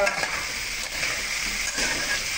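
Cumin, whole coriander, dried chillies, cinnamon, cloves, bay leaves and curry leaves frying in hot oil, a loud steady sizzle with occasional stirring scrapes, close and continuous.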